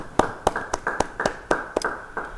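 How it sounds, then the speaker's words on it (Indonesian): Rhythmic, evenly spaced claps ring out at a church gathering, roughly eight sharp beats in steady tempo, close and prominent with a faint murmur beneath. "Yang percaya, beri tepuk tangan bagi Tuhan"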